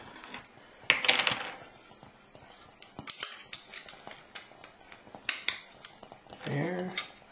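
Metal parts of a canteen cook kit stove clink, scrape and tap together as it is put together, a busy run of close light metallic knocks with one longer rattling scrape near the end.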